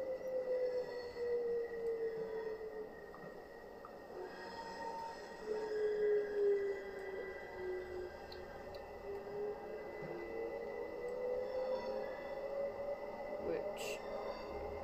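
A train runs in the video game Train Sim World, giving a steady rumbling drone with a long, slowly gliding squeal of wheels or motor whine, continuous and fairly quiet throughout.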